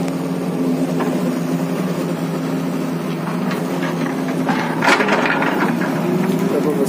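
An old heavy work machine's engine runs in a steady low rumble close by, then is revved harder toward the end, its roar briefly swelling.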